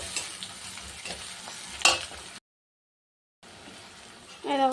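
Chopped tomatoes drop into a pan of fried onion and cumin, giving bursts of sizzling and stirring clatter, broken by a short silent gap and then a sharp renewed hiss.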